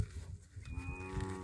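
A large, heavy Holstein ox at a calf sale gives a single deep, drawn-out moo that rises and swells, heard fairly close amid quiet background noise.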